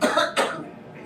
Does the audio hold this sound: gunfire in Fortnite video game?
no